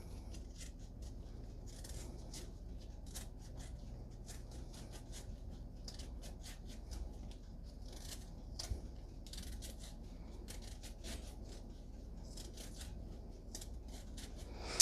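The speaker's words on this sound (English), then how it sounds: "I'm gonna peel the other one as well." Quiet, repeated short scraping strokes of a peeler stripping skin from a sweet potato, close and soft in an otherwise still kitchen.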